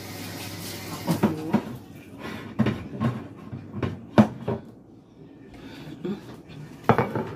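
Pans and utensils clatter in a home kitchen as food is transferred into a baking dish, with repeated metallic knocks and scrapes at an uneven rhythm, fairly close and loud, plus brief quiet stretches.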